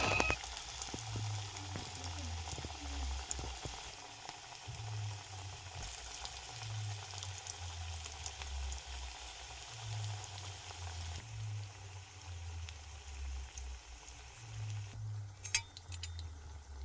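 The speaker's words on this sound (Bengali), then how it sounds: "এখন কড়াইয়ের মধ্যে তেল দিয়ে দিয়েছি, দিয়ে পকোড়াগুলো হাত দিয়েই একটু চ্যাপ্টা মতো করে নিয়েছি" Flattened cabbage pakoras deep-fry in oil in a wok, a continuous soft bubbling and crackle with a low rumble underneath, steady throughout with a brief clatter near the end.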